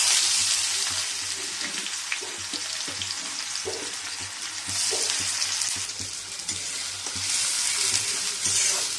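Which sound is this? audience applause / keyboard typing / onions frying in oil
onions frying in oil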